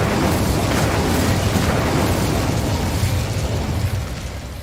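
Incendio fire spell blast in Hogwarts Legacy, a loud sustained burst of fiery roar and crackle that holds steady for several seconds before gradually tapering off.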